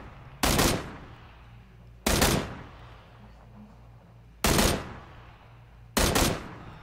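Four single gunshots from PUBG, an Xbox battle royale game, ring out at spaced intervals of about two seconds, each a loud sharp crack with a short decaying tail over a low background hum.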